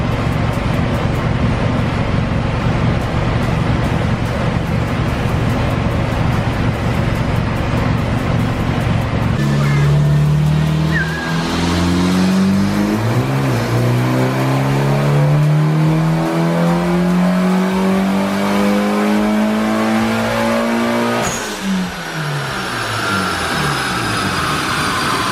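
Car engine on a dyno running E85 fuel, idling steadily and then revving hard in a long rising pull, loud and close, with harmonics climbing before dropping off near the end.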